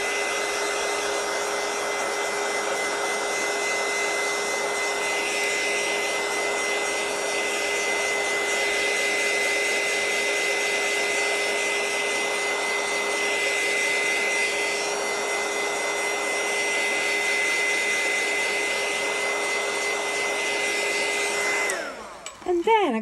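A craft heat blower drying paint on a journal page, heard as a steady, loud whirring hum held for over twenty seconds before it cuts off and is followed by a brief rustle.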